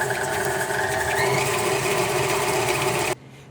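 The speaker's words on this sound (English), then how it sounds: "Use this with a stand mixer like I have, or you can cream this together with a hand mixer." Stand mixer creaming butter and sugar for a matcha pound cake, a loud, steady motor whir with a whining mechanical tone that runs for about three seconds before cutting off abruptly into quiet room tone.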